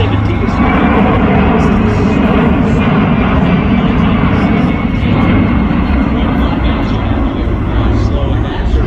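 A Boeing C-17 military transport aircraft in slow flight along an airshow line, its engines a loud, continuous, heavy roar that stays steady throughout, with people talking underneath.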